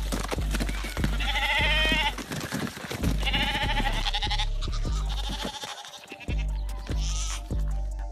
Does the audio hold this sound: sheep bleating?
yes